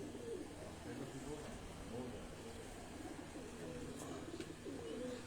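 A pigeon coos softly and repeatedly in low, rolling calls beneath a steady background hum, with voices murmuring nearby.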